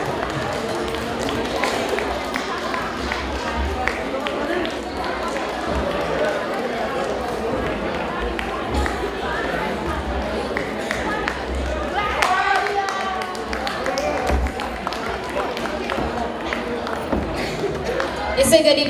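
An audience at a UK community Lhochhar celebration applauds after a dance performance: a sustained, dense wash of clapping mixed with crowd murmur that continues evenly throughout.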